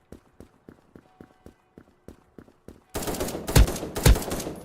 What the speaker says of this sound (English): I got the Kalashnikov, and I'm going in.